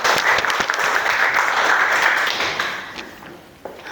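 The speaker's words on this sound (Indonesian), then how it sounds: "Tepuk tangan buat kita semua ya." A classroom of students bursts into applause, a bright, busy clatter of many hands that holds steady, then thins and fades toward the end, with a few scattered claps and light taps at the close.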